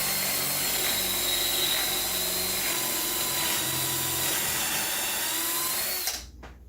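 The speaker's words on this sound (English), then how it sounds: "place it down into the pocket here, or into the jig, and just drill the holes" A power drill bores pocket holes through wood clamped in a pocket-hole jig while building an arcade cabinet riser, a steady close whine running continuously for about six seconds before cutting off abruptly.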